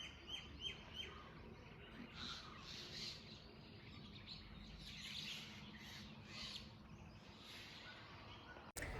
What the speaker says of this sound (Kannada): ಬರ್ಡ್ಸ್ ಎಷ್ಟು ಕಿರ್ಚಾಡ್ತಿದೆ